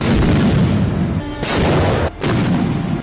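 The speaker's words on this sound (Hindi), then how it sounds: "रूसी सैनिकों ने कंधे पर रखकर दागी जाने वाली मिसाइलों से वहां कहर बरपा दिया।" Loud, harsh roaring blasts of shoulder-fired missiles launched by Russian soldiers in the war in Ukraine, a dense, continuous barrage broken by two short gaps.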